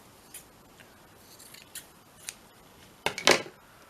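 Scissors cutting canvas material, a few soft separate snips followed by a louder, crisp double cut near the end, close up with no talking.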